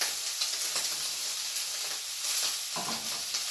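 Onions frying in a pan, a bright dense hiss and sizzle running continuously, close and fairly loud, with a short stirring scrape near the end.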